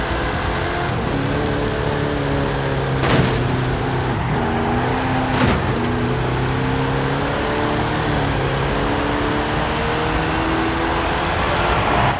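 Race car engine in a Forza Horizon 5 Hot Wheels track game, revving steadily as gears shift up and down in repeated rising pitch sweeps, loud and close with brief sharp clacks mixed in.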